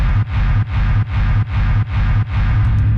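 Layered schranz kick rumbles with reverb, distortion and sidechain pound in a fast, even loop of about eight hits, each a loud, deep, gritty thump that swells and ducks in a pumping rhythm.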